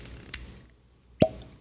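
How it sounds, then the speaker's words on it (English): A cork pulled from a bottle of Uncle Nearest 1884 whiskey, 93 proof, giving one sharp, hollow pop up close after a faint earlier tap, in a quiet room. "That's a good cork pop right there."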